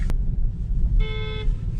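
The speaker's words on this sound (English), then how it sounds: "I'm getting honked at again." A single short car horn toot, clear and fairly close, honked at a Tesla turning right, over a constant low rumble of traffic and engine noise.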